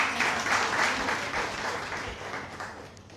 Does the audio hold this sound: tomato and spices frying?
no